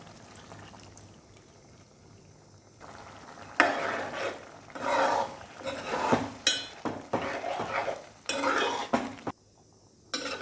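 Tamarind going into an egg curry in a cooking pot, with stirring and scraping of a utensil against the pot over a soft simmering sizzle, in uneven bursts after a quieter opening.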